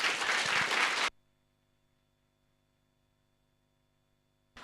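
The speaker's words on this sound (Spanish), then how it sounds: "recibimos con un fuerte aplauso al pastor Andrés Lim" Congregation applause welcoming pastor Andrés Lim at a Sunday church service, a loud burst of clapping for about a second that stops abruptly, leaving a low hum and near silence.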